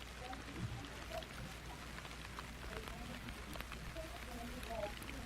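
Rain falls on an outdoor cricket ground during a rain delay in a premier final match. A faint, steady patter runs beneath quiet background murmur, with scattered drips throughout.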